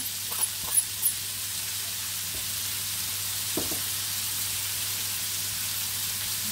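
Onions and garlic frying in a pan, a steady hissing sizzle with a few squeaky scrapes near the start and one in the middle, no one talking.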